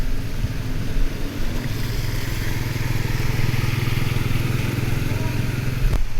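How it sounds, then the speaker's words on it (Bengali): Motorbikes ride through deep floodwater outside a flooded medical college hospital after heavy rain, a loud continuous engine drone mixed with splashing water, close and steady throughout. "পানির মধ্যে দিয়ে ডিউটি শেষ করে বাসায় যাওয়ার জন্য মোটর বাইক নিয়ে রওনা হচ্ছেন অনেকেই"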